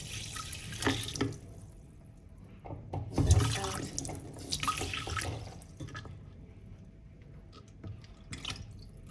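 Water is added to a small pot while making lemon oil, heard as irregular bursts of pouring and splashing with drips between them, close and moderately loud, with quiet gaps.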